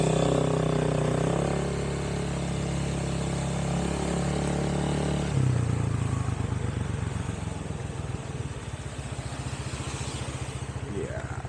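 Motorcycle engine droning while riding, a steady low hum with wind rush, shifting pitch midway as speed changes, then a pulsing low rumble as it slows.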